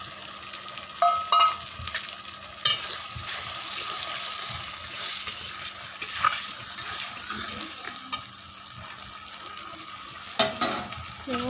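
Spice paste frying in a pan with country chicken in a village kitchen, a soft steady sizzle broken by scraping stirs and a few louder clatters, with no talking.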